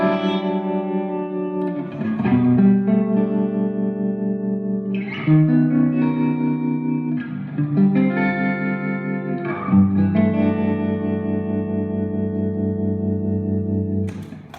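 Electric guitar played through an amp and effects pedals, heavily processed with drive, chorus and echo: sustained chords and ringing notes fill the whole stretch, loud and close with a swelling reverb tail, no talking.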